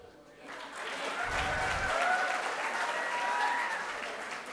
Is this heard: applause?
yes